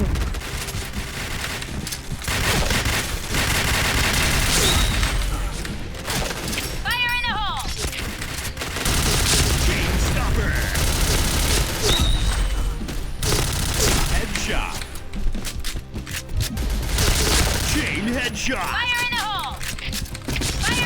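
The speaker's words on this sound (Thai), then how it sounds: "แหมยิงใหญ่เลยนะจ๊ะลูกซอง" Rapid shotgun blasts and other gunfire in the shooter game Point Blank crackle in bursts over a steady battle din, while a player talks excitedly throughout.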